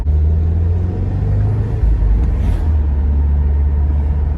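A manual 2018 Subaru WRX engine growls loud and close as the throttle opens, a deep continuous rumble that holds steady and surges slightly midway, with no talk.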